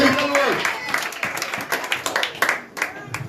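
A congregation claps at a church service, with dense, rapid hand claps that grow more distinct toward the end, mixed with voices and some tonal sound from the start.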